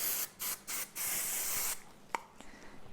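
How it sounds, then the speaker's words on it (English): Wig wax sprayed onto a synthetic wig in short close aerosol bursts, a few quick hisses followed by one longer sustained spray, then quiet handling. "Now I'm going to spray a little bit of wig wax"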